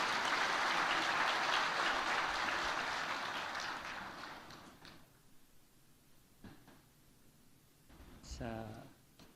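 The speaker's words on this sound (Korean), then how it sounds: "큰 박수로 축하해 주시기 바랍니다." Loud applause from a church congregation during a Sunday service fills the first few seconds, then fades into quieter room noise with a few thumps and a brief voice near the end.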